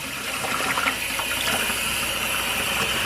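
Rice is rinsed with water in a regular pot, a continuous close splashing and swishing of running water throughout with no voices.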